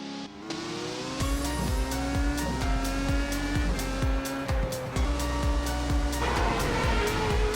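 Race cars in the iRacing World Championship Grand Prix Series sim race at Monza, engines revving loudly with repeated pitch sweeps as they sit on the grid and pull away, with some tire squeal and no talking.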